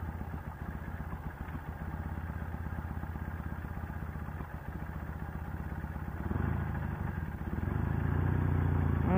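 Engine of a Martini Racing sidecar motorcycle while riding, a steady mid-pitched rumble that swells and deepens toward the end as the rider shifts down to first gear, with no talk over it.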